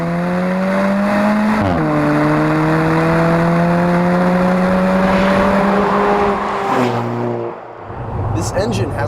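A 2015 Alfa Romeo 4C's 1.7 liter direct-injected turbo engine drones steadily with strong harmonic tones, shifting pitch as it changes gear, then easing off near the end.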